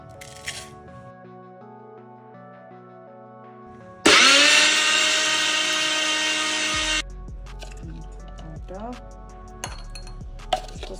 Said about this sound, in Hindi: फिर हम इस सबको मिक्सी में अच्छे से ग्राइंड करेंगे।